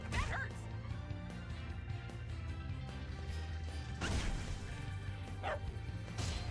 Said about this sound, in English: Hey, good dog.